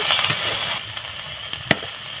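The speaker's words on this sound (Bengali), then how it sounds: "হলুদ গুঁড়ো দিয়ে আবার একটুখানি আমি নাড়িয়ে দিলাম" Spice paste with turmeric powder sizzling and frying in a pan while being stirred, a steady soft crackle with a few brief scraping clicks near the end, close and fairly quiet, no talking.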